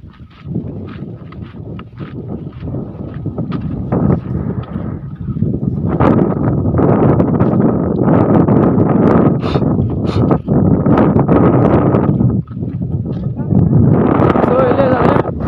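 Strong outdoor wind gusts batter the microphone near a herd of buffalo, a loud continuous roar swelling and dipping in waves, with voices occasionally audible underneath.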